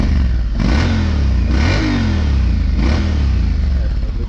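A 2018 Honda X-ADV 750 motorcycle fitted with a large Africa Twin exhaust revs loudly and close up, its engine surging in three repeated blips over a steady idle rumble.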